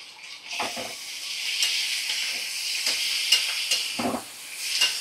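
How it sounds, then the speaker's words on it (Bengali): Spice paste for a bata fish curry frying on a medium flame, a soft continuous sizzle broken by a few scraping stirs, fairly quiet and close with no talking. "তো মশলাটা ভালো করে কষা হয়ে গেছে"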